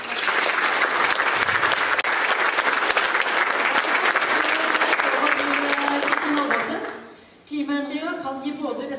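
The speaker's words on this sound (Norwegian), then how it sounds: "Applaus til Ida Karlsson" Dense audience applause at a climate finance breakfast seminar, loud and sustained for about seven seconds before fading, followed by a speaker beginning to talk.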